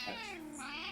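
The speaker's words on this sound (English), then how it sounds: "Is that the cat? That's the cat. There's the cat." A loud, drawn-out cat meow during an indoor livestream, a single close wavering cry lasting under a second with no talk over it.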